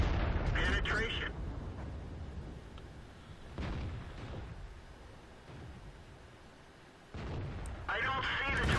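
Tank cannon shots in World of Tanks, played with an ARL V39 tank destroyer, booming out loud at the start and again near the end, with quieter rumbling battle ambience between.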